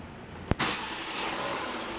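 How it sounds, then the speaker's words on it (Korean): A Genesis G80 fitted with a G80 Sport styling kit starts with one sharp crank burst, then settles into a steady idle. "시동 걸어보세요."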